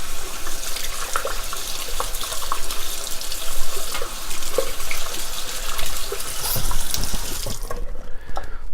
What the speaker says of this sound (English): and we'll just kind of rinse them off really good there